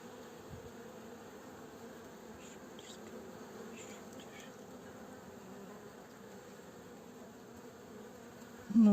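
Steady buzzing of many honeybees humming together, a continuous droning swarm close by, with a brief bump of noise at the very end.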